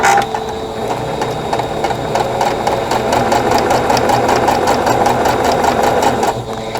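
Sewing machine piecing with a quarter-inch foot and all-purpose thread, whirring close and loud in one continuous run of rapid even stitching that stops near the end.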